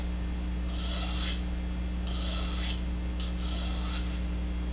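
A hunting knife blade is drawn across a GATCO diamond sharpener three times, each stroke a short gritty rasp over a steady low electrical hum, with no voices.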